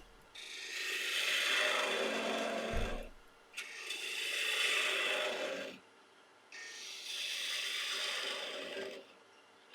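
A half-inch spindle gouge cuts laburnum wood on a lathe during the turning of a goblet, in three long passes of rough scraping and whirring, each lasting a few seconds and separated by brief pauses, heard close up with no talk.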